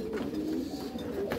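Pigeons cooing inside a loft, a steady murmur of soft, low coos running continuously and close by with no talking.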